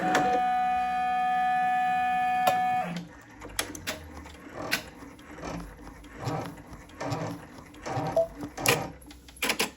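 An embroidery machine stitches a placement outline on a sweatshirt or T-shirt, a steady mechanical hum giving way to a loud, fast run of rhythmic needle clatter, close and alone.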